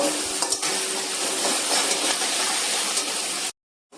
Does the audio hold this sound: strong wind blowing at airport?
no